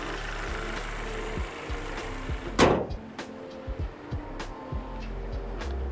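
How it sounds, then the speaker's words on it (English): The hood of a 2024 Toyota Corolla Cross LE slams shut in a single sharp thud, followed by a few faint clicks and knocks over a quiet background hum. "let's go ahead and close the hood"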